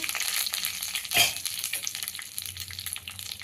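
Oil frying hard in a pan over a high flame while a pickle chutney cooks, giving a dense crackling sizzle that swells in one loud burst near the start and then settles into a busy spitting hiss.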